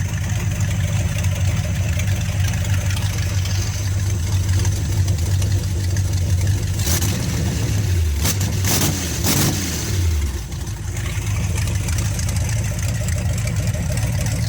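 A warmed-up 1949 GMC 425 NailHead-powered street truck idling with a deep steady rumble, briefly blipped by a few quick revs before settling back to a loud, even idle.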